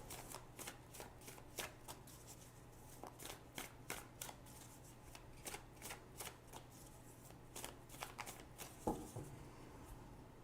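Oracle and tarot cards being shuffled by hand: a quiet, close series of crisp riffling and slapping bursts at an irregular rhythm, with one louder snap near the end and no talking.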